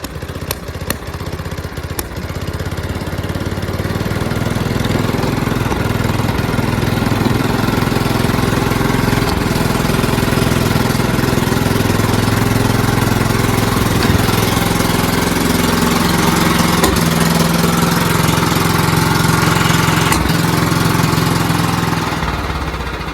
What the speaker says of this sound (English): So it pops a little when I'm at lower throttle.